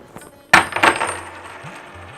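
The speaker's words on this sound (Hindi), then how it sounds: "कुछ सिक्के तो यहाँ भी है।" Coins drop onto a hard surface in one sharp metallic clatter, followed by a few smaller ringing bounces and a fading spin, heard close and alone.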